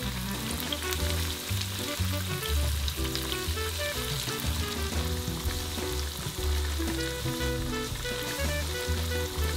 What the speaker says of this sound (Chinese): 炸到变成淡淡的金黄色的样子就可以拿出来